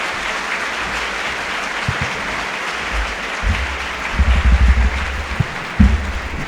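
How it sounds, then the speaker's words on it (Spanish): A conference audience at a talk on sexual diversity applauds the speaker with sustained, dense clapping, steady throughout with a few low thumps toward the end. "Bien merecido el aplauso."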